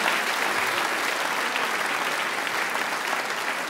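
A cabaret audience claps for a comedian on stage, a thick, even wash of many hands applauding continuously at moderate loudness with no voices rising above it.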